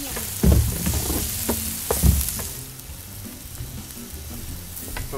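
Chopped onion sautéing for paella in a wide paella pan, a steady soft sizzle with two louder scraping bursts early on, then settling into a continuous even hiss close by.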